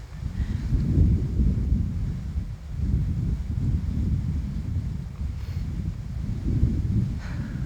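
Wind blowing outdoors, low rumbling gusts that swell and ease in broad waves against the microphone, steady and fairly loud throughout, with no speech.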